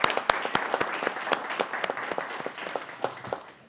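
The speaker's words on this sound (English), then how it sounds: "everyone give them a round of applause" A council meeting audience applauds, a steady patter of many hands clapping in a room, moderately loud with a few sharper individual claps standing out and tapering slightly toward the end.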